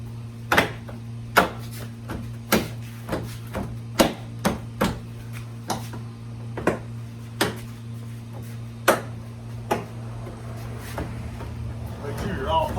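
Plastic clips being pressed into place on a Toyota Tundra's LED headlight housing, a series of sharp, distinct snaps and clicks at irregular intervals over a low steady hum.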